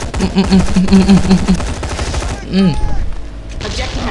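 Rapid bursts of gunfire crackle in quick succession in the video game BlackFire alongside electronic game sounds, with a voice speaking over parts of it.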